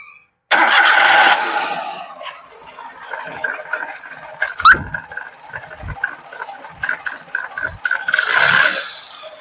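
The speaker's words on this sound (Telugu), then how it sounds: "ఒకసారి మనం స్టార్ట్ చేసి చెక్ చేసుకుందాం ఇంజన్ సౌండ్ ఎట్లుంటుంది అనేది" A 2016 Maruti Alto 800 petrol/LPG car engine cranks briefly, catches and settles into a steady idle with small fluctuations. It is loud and close, and no voices are heard.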